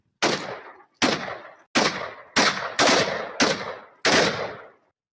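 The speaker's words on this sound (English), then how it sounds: "Then gunshots are heard." Seven sharp gunshots fired at a group of men, loud single cracks spaced about half a second to a second apart, each with a short decaying tail, with no voices.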